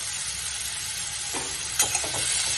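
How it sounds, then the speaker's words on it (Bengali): Boiled radish pieces fry with black mustard seeds over a raised gas flame, giving a constant soft sizzle with a few brief stirring scrapes and crackles toward the end. "ভালোভাবে ভাজা ভাজা করে নিতে হবে"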